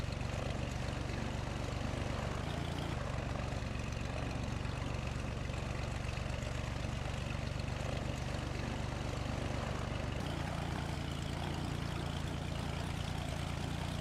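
A propeller plane engine drones steadily in a flight simulator game, a dense continuous hum with low rumble that holds level throughout, without a break.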